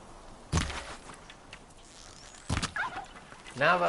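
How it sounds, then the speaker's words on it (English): Turkeys in the video game Horizon Zero Dawn: two sharp thumps, then several quick warbling gobbles near the end, fairly close over a faint background hum. "turkeys and everything is everywhere"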